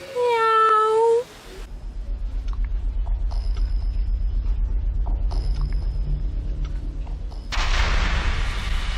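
A single drawn-out cat meow sounds close and clear at the start, then gives way to a low, continuous rumble.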